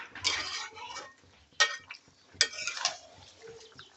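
Chicken leg pieces sautéing in a pan, with scattered metallic spatula scrapes and clinks over a soft low simmer, a couple of sharper knocks standing out.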